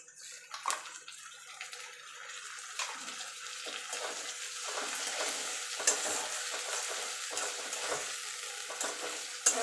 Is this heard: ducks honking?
no